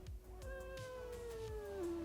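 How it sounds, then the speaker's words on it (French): A strange, drawn-out cat meow from a sound-effect library, a single wavering cry that starts high and slides slowly downward, heard alone over a faint low rumble. "un chat qui fait miaou, mais il n'a pas l'air très normal"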